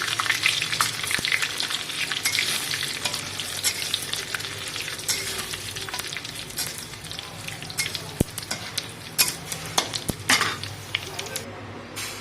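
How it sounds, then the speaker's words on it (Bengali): Mustard seeds and garlic sizzle loudly in hot oil in a pan, tempering a tangy dal, with crackling spits and the scrape and clink of stirring throughout. "খাটার ডালে সর্ষে আর রসুন দিয়ে ফোড়নটা দিতে হয়।"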